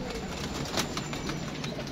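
Pigeons coo softly amid a busy background of rustling and low murmur, with a brief burst of flapping or movement near the middle.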